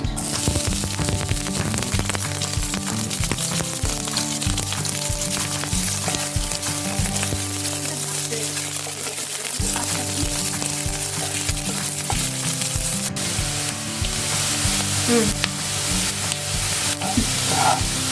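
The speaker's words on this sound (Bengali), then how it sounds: "তেলটা গরম হবে, গরম হয়ে আসছে। এতে আমি এবার কুচনো পেঁয়াজ কুচি দেব।" Chopped onions fry in hot mustard oil for a spinach and poppy-seed dish. A dense, steady sizzle runs throughout with frequent stirring clatters. The sound is close and carries on alone without talk.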